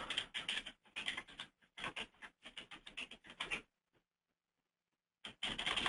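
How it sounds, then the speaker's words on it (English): Rapid clicking of a computer keyboard as a comment is typed, a close, steady patter of keystrokes that stops briefly for a second of silence before resuming. "We'll type in some kind of a comment."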